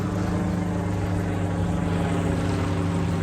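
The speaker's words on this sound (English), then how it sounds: "fucking helicopter flying over." A helicopter flying overhead makes a steady, loud, low droning rotor and engine roar that stays even throughout.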